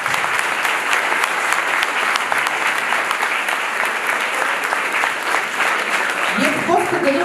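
Audience applause at a school last-bell ceremony, steady dense clapping filling the room throughout, with a voice starting to speak near the end.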